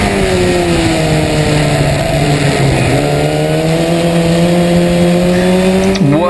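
Historic Formula Ford race cars at Brands Hatch scream past in close pursuit, loud high-revving engines holding steady tones before a gear change, continuous and near.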